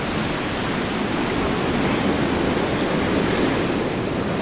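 Continuous roaring wash of ocean surf on a beach below cliffs, loud and close, a dense hiss of breaking water with no pauses.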